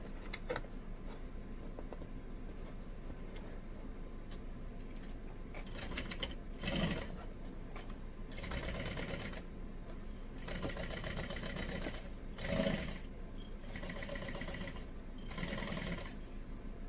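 A sewing machine stitches a seam on a tote bag in several short, quiet bursts of fast mechanical chatter, separated by pauses of low background hum.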